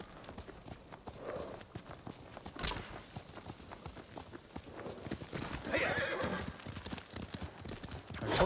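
A horse ridden in Ghost of Tsushima clip-clops at a steady rhythmic gait, with a neigh partway through, moderately close and alone.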